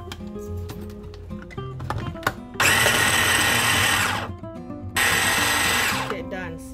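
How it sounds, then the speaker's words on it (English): A small electric grinder processes raw shrimp for pork and shrimp balls in two loud sustained whirring bursts, preceded by handling clatter. "Okay, first I'm gonna grind a shrimp. This is, I have small machine,"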